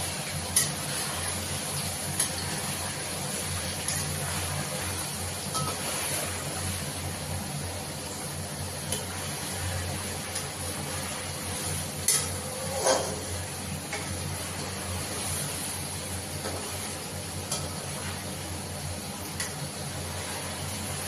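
Food frying in a pan until browned for a paneer gravy makes a faint, continuous sizzle, with occasional soft clicks and scrapes of stirring.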